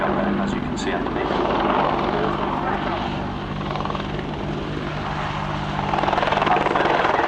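An Apache attack helicopter in a flying display at RIAT, its rotor and engine roar droning steadily and loudly, with a commentator's voice over it.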